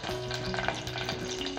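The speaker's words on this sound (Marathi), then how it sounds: "तेल तापलेलं आहे, कढीपत्ता घालून घेते।" Curry leaves crackle and sizzle in hot oil for a coconut chutney tempering, a steady close frying hiss with scattered pops and stirring scrapes, with faint background music and no talking.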